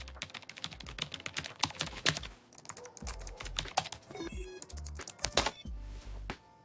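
Fast typing on a computer keyboard, close and crisp, with irregular bursts of key clicks and a few heavier thumps, fairly quiet overall and without talk.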